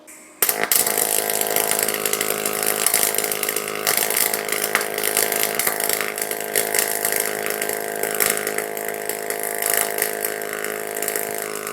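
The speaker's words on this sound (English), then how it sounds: "I've got some 16 gauge steel set up here, and I'm going to weld it with the single pulse" Continuous crackling, sizzling buzz of a single pulse MIG welder on a YesWelder DP200 laying a bead on 16 gauge steel, loud and steady for the whole stretch with no talking.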